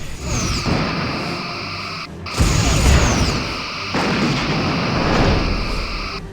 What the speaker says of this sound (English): I'm going to switch back to photon torpedoes.